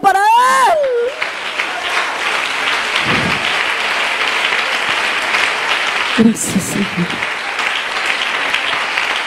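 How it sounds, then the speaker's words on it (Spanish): Church congregation applauding, a steady loud wash of clapping through the whole stretch, with a voice speaking briefly near the start and again partway through. "Un aplauso para él."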